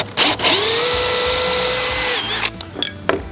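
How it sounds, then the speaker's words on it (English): Power drill boring a walnut plug in a woodworking shop: the motor spins up to a steady high whine for about two seconds, then winds down, leaving brief clatters and knocks. "we're going to drill a contrasting one out of some walnut"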